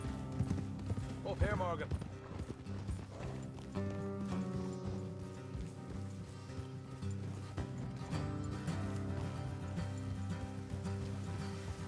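In the Red Dead Redemption 2 video game, horses' hooves clip-clop steadily under game music, and a voice speaks over them.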